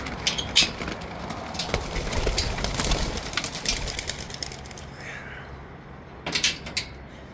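Racing pigeons in a loft, with soft cooing and rustling wing flutters among scattered knocks and clicks, close and moderately loud throughout.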